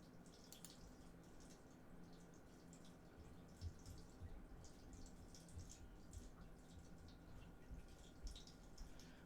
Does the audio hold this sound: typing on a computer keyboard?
no